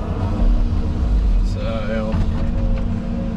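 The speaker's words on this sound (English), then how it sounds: "just turning up now with the bobcat" A Bobcat skid-steer loader arriving at a building site for a sand house pad, with a low, steady engine rumble nearby and a voice talking over it.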